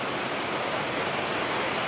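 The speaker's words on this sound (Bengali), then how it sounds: "দেখো বৃষ্টি বৃষ্টি বৃষ্টি চারিদিকে" Heavy rain falls steadily as an even, dense hiss with no breaks.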